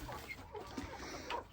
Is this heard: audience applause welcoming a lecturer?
no